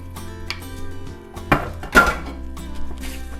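A metal springform cake pan being handled, giving a few clanks and clinks of metal, with two louder knocks standing out against a low background hum.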